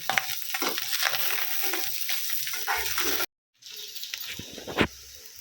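Fried rice with spring onions being tossed and stirred in a hot pan, a steady sizzle with scraping and clinking of the utensil, close and moderately loud, a brief pause, then a sharper knock near the end.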